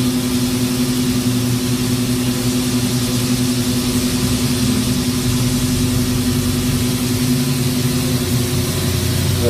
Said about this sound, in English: Idle's pretty over there. It idles way down, doesn't it?